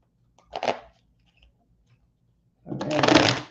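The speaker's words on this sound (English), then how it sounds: "I'm going to shuffle the cards 3 times each and then pull each." Tarot cards are shuffled by hand in two separate bursts of crisp riffling, a short one first and a longer, louder one after a quiet pause, close to the microphone with no talking.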